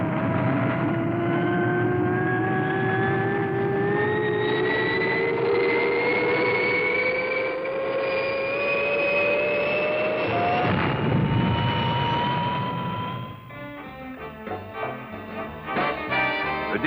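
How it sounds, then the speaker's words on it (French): The Fireball XL5 rocket engines from the 1962 series roar at full power during takeoff, a loud continuous whine with rising tones over a rumble that eases near the end as other tones come in, and no talking. "Le décollage est parfait."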